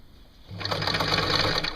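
A sewing machine stitching a boy's T-shirt alteration starts after a brief quiet moment, then runs as a steady fast motor hum with rapid needle clatter, close and loud.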